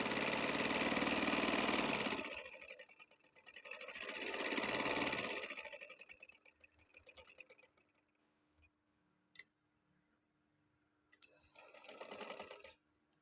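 A sewing machine runs in short loud bursts while stitching the bottom hem of a shirt (kameez), with quiet pauses and faint ticks between runs. It starts loud, then comes in two more spaced bursts.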